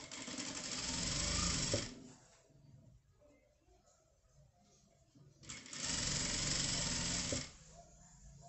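A sewing machine stitching an embroidered men's shirt, running in two loud bursts of rapid whirring separated by a quieter pause, close up.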